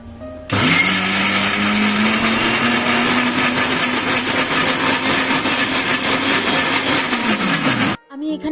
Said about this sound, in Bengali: হালকা জল দিয়ে চালটাকে আগে ভালো করে বেটে নিয়েছি